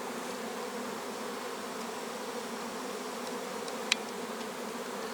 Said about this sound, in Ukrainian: Ось так бджола йде на ліс у віконце.